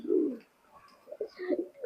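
Teddy pigeons coo close by in short, soft throaty bursts, one low coo followed after a pause by a few quicker rising coos, quiet and alone.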